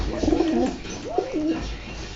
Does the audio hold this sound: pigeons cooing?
yes